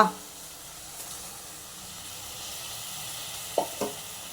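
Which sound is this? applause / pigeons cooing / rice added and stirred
rice added and stirred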